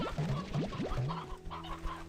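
Stony hens in the video game Slime Rancher 2 give a quick series of rising chirpy clucks, several short pitched calls in a row, close and clear over a faint game background.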